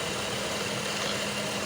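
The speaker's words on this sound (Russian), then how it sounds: "Вот, мотор крутится." A car engine idles steadily up close with the hood open, ahead of a power steering fluid change for stiff steering; a constant even hum with no voices over it.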